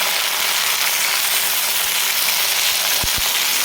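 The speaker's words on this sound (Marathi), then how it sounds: "तर हे बटाटे आपल्याला छान असे भाजून द्यायचे नुसतं तेलामध्ये" Potato pieces frying in oil in a pan for a tiffin vegetable dish, a steady close broadband sizzle and crackle throughout, with a couple of brief low knocks near the end and no voices.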